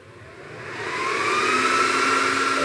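Cooling fans of a Cisco network switch spin up after power is reconnected, a steady broadband whir that swells louder over the first second and then holds, with a faint rising tonal whine.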